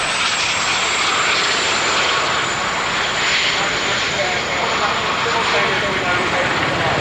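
Royal Navy helicopters in a display team crossing over during an air show break, a steady loud rotor and engine roar that holds evenly throughout with no pause.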